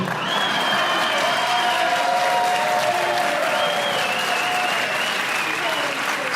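Studio audience applause at a live political talk show, a steady dense wash of clapping that holds loud for the whole stretch, with a few voices faintly mixed underneath.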